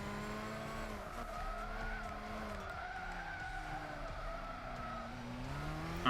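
Nissan GT-R race car in Gran Turismo 6, engine droning steadily with a pitch that rises and falls through gear changes while tires squeal and skid throughout, loud and continuous with no talk.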